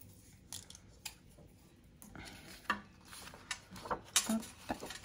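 Scissors cutting a cardboard Happy Meal box template on a bevel, a quiet series of scattered snips and rustles with a few sharper clicks, heard close with no voices.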